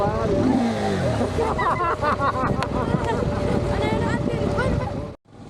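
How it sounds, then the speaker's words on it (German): An off-road motorcycle revs on a wild track in Morocco's High Atlas, the engine note climbing and surging in close bursts under someone speaking, then cutting off abruptly at the end. "Aber wir haben beim Mordsgaudi mit meinem Motorradl beim Gas geben."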